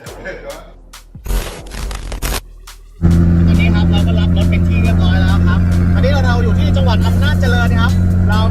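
A Mazda RX7 with a rotary engine idles loudly and steadily after some earlier handling noises and short bursts, its close, throbbing drone holding even for several seconds.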